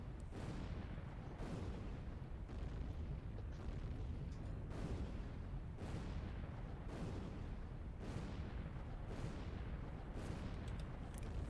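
A modded rocket artillery barrage in a video game lands in a relentless series of booming explosions, roughly one per second, each blast rumbling and fading before the next, loud and continuous with no voices.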